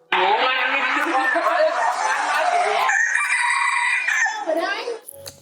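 A rooster crows in a long, loud, strained call, followed by a briefer trailing crow near the end.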